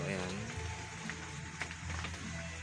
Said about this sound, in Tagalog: So mag-overtime muna ako kasi umuulan dito ngayon sa Kabakungan sa amin.